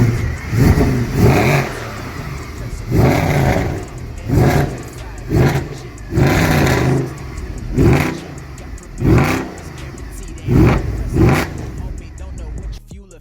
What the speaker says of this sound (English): W212 with the M156 AMG naturally aspirated badass engine.